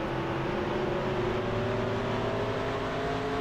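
Race cars roar steadily in the NASCAR Racing 2003 Season video game on a 2000 Mod at Richmond, a loud continuous engine drone with shifting tones as the pack runs hard, with no talk.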